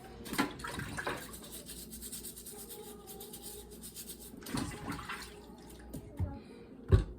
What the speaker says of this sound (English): we give it a nice scrub in a nice cold water